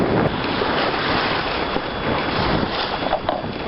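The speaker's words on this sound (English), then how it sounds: "A little more up and down on the waves now since we're going into the wind." Waves slapping a MacGregor 26X sailboat sailing upwind, a continuous loud wash of water and hull splashing mixed with heavy wind buffeting the microphone, with no voices.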